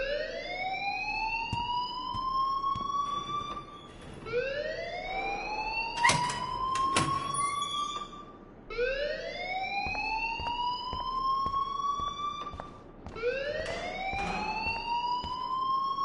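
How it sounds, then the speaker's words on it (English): Alarm in the video game Life is Strange, rising electronic siren wails repeating every few seconds, loud and continuous, with faint clicks beneath. "please turn off that alarm since that's your job."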